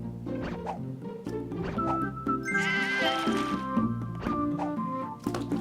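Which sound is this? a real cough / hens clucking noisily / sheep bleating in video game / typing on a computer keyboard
sheep bleating in video game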